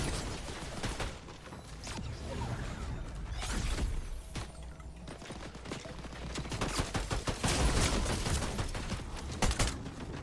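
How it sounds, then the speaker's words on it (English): Rapid gunfire in a video game, many sharp cracks in dense, irregular bursts over constant clattering and crunching noise, with no talk. "Why is everybody shooting only me?"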